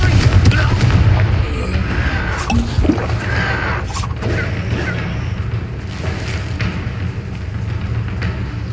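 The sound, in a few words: Confringo fire spell exploding, Hogwarts Legacy video game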